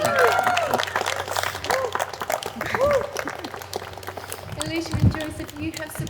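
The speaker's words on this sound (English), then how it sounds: "Give them a round of applause." Guests at a wedding ceremony clap for the bride and groom, a warm burst of applause mixed with voices talking and calling out close by.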